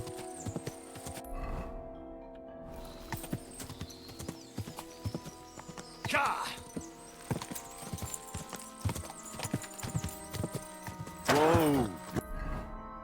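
Horse hooves clip-clop across ground in Kingdom Come: Deliverance II, a steady trotting rhythm with louder clattering bursts and a brief whinny, no talk over it.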